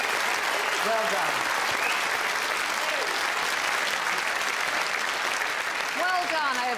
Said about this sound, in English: Round of applause for our winner.